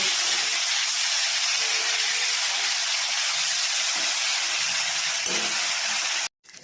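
Prawns frying in hot mustard oil in a wok give a loud, steady, dense hiss that fills the whole clip and then cuts off abruptly near the end.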